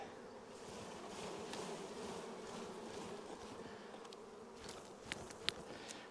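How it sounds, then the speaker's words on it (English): Steady buzzing of many bees, close and continuous, with a few faint clicks and taps near the end. "shake all the bees off"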